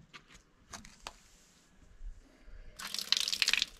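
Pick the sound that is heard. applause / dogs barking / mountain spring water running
mountain spring water running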